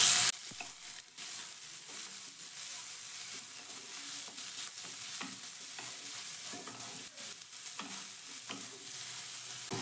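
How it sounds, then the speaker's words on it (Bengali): Grated ginger, chopped green chillies and garlic sizzle softly in a pan while being stir-fried, a faint steady hiss with occasional scraping stirs and no talking. "এবার সব কিছু একসঙ্গে আমি মিশিয়ে একটু ভেজে নেব"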